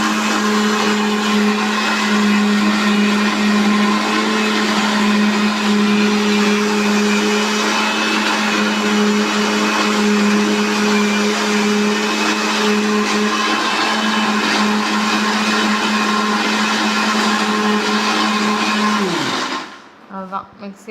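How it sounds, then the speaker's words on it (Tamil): A kitchen mixer grinder whirs steadily while blending a mint and coriander chutney with water into a fine paste, the loud even motor hum running for about nineteen seconds before switching off and winding down. "மிக்ஸி ஆஃப் பண்ணிட்டாங்க."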